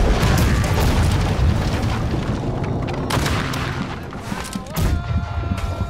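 Ship cannons boom in a Blackwake naval battle, a dense run of heavy blasts and rumbling volleys that stays loud throughout, with sharper reports near the end and faint voices mixed in.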